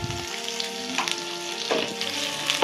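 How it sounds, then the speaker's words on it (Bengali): Chopped capsicum fries in a hot pan with a dense, close sizzle and occasional bursts of louder spitting as the pieces are moved. "এরপর আমরা দেবো এর মধ্যে ক্যাপসিকাম, ওটিকে আমরা ভালো করে ফ্রাই করে নেব।"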